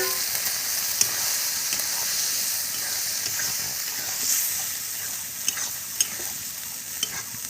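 Green peas frying in oil in a pan for matar paneer, giving an even, close, hissing sizzle throughout, with a few sharp clicks from stirring near the end.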